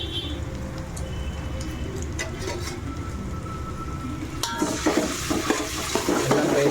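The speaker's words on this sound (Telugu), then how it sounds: "అల్లం పేస్ట్ వేసుకోవాలి." Ginger garlic paste frying and being stirred in a hot pan, a steady sizzle that grows louder and busier partway through, with scraping stir sounds close by and no talk.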